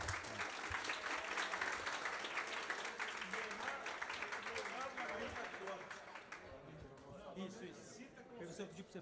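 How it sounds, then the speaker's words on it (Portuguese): A small crowd at a football fan gathering claps, loud at first and then fading into chatter and movement, with voices talking over the dwindling applause. "Palmas pra ela"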